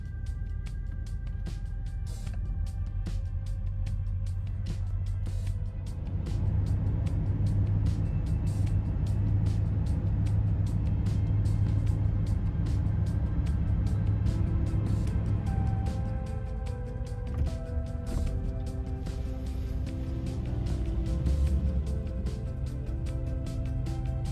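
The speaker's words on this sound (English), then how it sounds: "I'm gonna drive the Riviera over and we're gonna head to the show." A Buick Riviera drives on the road to a car show, giving a steady engine drone and road rumble from inside the car that swells when it speeds up, with no talk.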